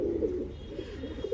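A pigeon coos close by in low, rolling, throaty tones that run continuously through the short moment.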